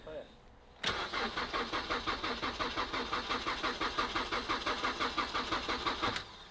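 A drift car's engine, freshly fitted in an engine swap, cranks and fires at about one second, then runs loud and close with a steady, pulsing rhythm until it cuts off near the end.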